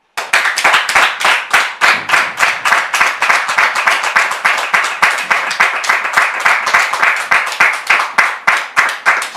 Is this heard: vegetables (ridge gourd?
no